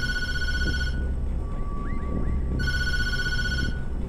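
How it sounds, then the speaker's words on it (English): Telephone in the horror game Tattletail ringing in two clear electronic trills separated by a short pause, loud and close over a low background hum, with no voices. "Hint, don't answer the phone."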